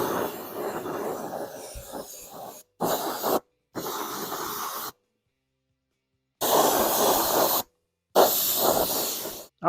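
A spray paint can hisses in several bursts of gray paint onto an RC car body, the bursts separated by short silent pauses, close and loud.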